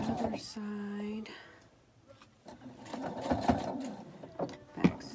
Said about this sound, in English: Okay, stitch the other side.